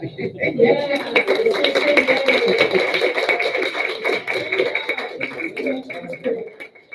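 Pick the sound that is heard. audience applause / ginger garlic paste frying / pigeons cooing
audience applause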